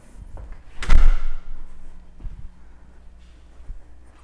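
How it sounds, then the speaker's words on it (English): A door closes with a single solid thud, followed by a few softer knocks and faint rustling in a quiet room. "Close the door."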